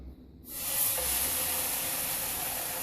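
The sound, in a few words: bologna frying on the stove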